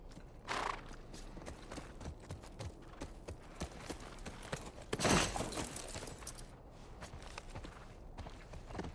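Video game horse hooves from The Last of Us Part 1 clopping steadily at a walking pace, mid-distance, with a louder burst of noise around the middle and no talking.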